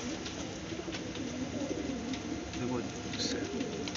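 A pair of pigeons, a larger male and a smaller female, coo in soft throaty rolling calls close by, under a man's speech and some background noise.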